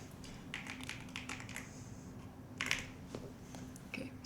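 Fingers type on a computer keyboard in soft, irregular bursts of clicks, with one sharper tap partway through, faint and close against a low steady room hum.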